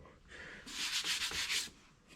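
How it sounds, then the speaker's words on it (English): A Subaru STi bumper is sanded by hand with 1000-grit sandpaper, a brief close burst of soft, hissing rubbing strokes lasting about a second, with quiet before and after. "so I've got this, so it's like 1000 grit. It's more of a polish."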